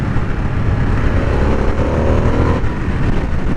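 A Harley-Davidson Sportster S 1250cc motorcycle engine rises in pitch on the throttle while riding, loud and close amid continuous wind and road rumble, with no voices.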